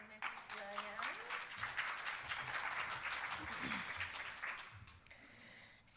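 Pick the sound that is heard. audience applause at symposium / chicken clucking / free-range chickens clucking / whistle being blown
audience applause at symposium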